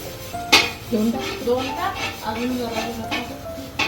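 A spoon scrapes and clinks against a metal cooking pan while spicy Sangli-style masala goes in, with a bright knock at the start and lighter taps following under a talking voice.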